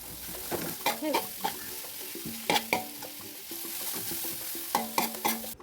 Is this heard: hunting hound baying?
no